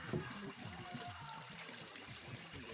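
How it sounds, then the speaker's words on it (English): Water from four streams converging at the Ikogosi spring meeting point trickles and burbles steadily at low volume, a continuous soft flow with faint murmuring voices in the background. "Right behind you here is a meeting point where we have 4 different streams flowing"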